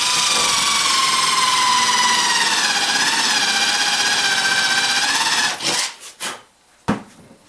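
A power drill drives screws into the corners of a wooden ammo box, one long, steady whirring grind that stops abruptly near the end, followed by a few short bursts and clicks.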